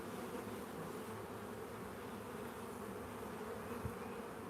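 Honeybees buzz steadily throughout an open hive during an inspection outdoors on a farm, a dense continuous hum with no talking.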